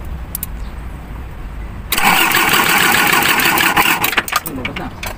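A Mitsubishi 4M51 diesel engine that ran out of fuel is cranked by the starter, with a quiet lead-in and then a sudden loud, rapid mechanical whirring that churns for about two seconds before breaking into uneven bursts, with voices nearby.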